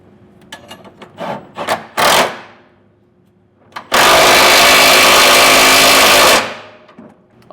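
Wrench tightening side-plate hardware into the frame of a 2022 Ford F-250 Super Duty truck: scattered short metallic clicks and scrapes, then a loud, sustained rasping burst of about two seconds that stops sharply.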